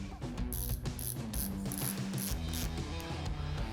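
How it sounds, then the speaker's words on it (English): A Torx bit ratchets as it removes windshield fasteners on a Harley-Davidson Low Rider ST, giving quiet, close, rapid clicking in an even rhythm that runs throughout. "So, got your Torx bit right here. Go ahead and remove these 6 fasteners"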